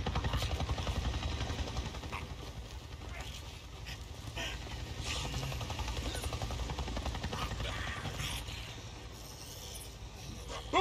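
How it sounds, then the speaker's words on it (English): A NERO helicopter in the video game Days Gone buzzes overhead, a steady loud rotor drone filling the whole stretch and slowly rising and falling as it passes, with no talk over it. "NERO Chopper! It just buzzed right over me"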